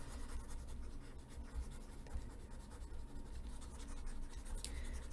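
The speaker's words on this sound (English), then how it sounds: "Let me just erase this so we have more space." A classroom board being erased during an algebra lesson, a steady continuous scrubbing and rubbing that runs without pause at moderate level, with no talking over it.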